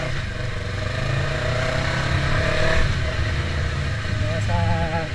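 Yamaha R3 sport motorcycle engine held at high revs, a steady loud whine with shifting pitch during wheelie practice, with people talking over it throughout.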